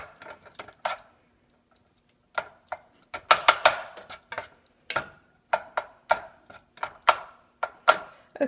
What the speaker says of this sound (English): I'm just going to go ahead and blend it all together